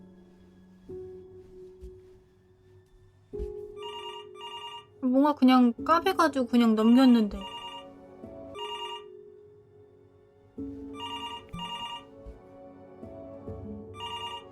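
A telephone rings in the Before Your Eyes video game, repeated bursts of trilling bells in a regular pattern, with a person talking in between and quiet music underneath.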